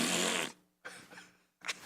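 A voice imitates fart noises, a basketball coach mimicking flatulence, with a long loud raspy burst followed by two shorter sputtering bursts after brief pauses.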